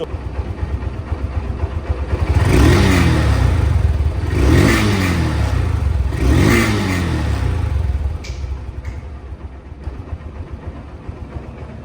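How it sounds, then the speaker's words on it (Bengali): Honda Hornet motorcycle engine, second hand, idling and then revved three times in quick succession, each throttle blip rising and falling loudly and close, before settling back to a steady idle. "তো বাইকটি সাউন্ড কোয়ালিটি একদম নতুনের মতো আছে"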